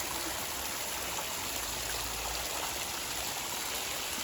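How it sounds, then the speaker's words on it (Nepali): Water from a tap runs in a steady, continuous rush, close and fairly loud, with no talking over it. "धारा आएको नि धारा आएको"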